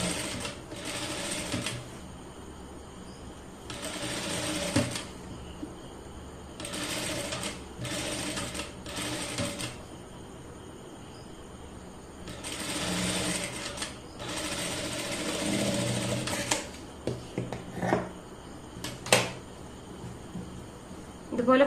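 A sewing machine stitches a cross piece onto a back neck piece of a garment, running in several short whirring bursts with brief pauses between them, close and clear.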